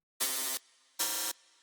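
Two short bright synth plucks from Serum 2, each with a slightly different randomized FM metallic tone, sounding alone with clean gaps between hits.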